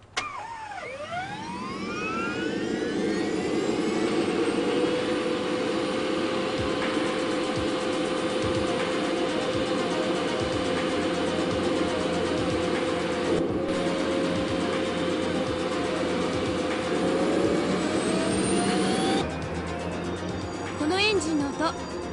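A 1987 Toyota GTV gas turbine car engine whines steadily with a rising high-pitched hum and deep rumble, like a jet taking off, running continuously with voices talking over it.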